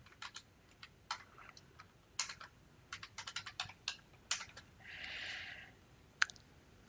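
Fingers tap out a password on a computer keyboard in short irregular bursts of crisp clicks, close and fairly quiet, with a brief soft rustle near the end.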